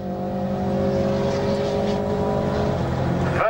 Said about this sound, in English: Drifting his way round.